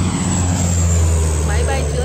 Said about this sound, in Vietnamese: Aerial firefighting.